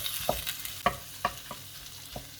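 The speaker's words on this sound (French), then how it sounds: "on va remuer pour bien les imprégner avec l'ail" Shrimp with garlic and parsley are stirred in a frying pan, faint steady sizzling punctuated by a handful of light utensil scrapes and taps spaced out over a few seconds.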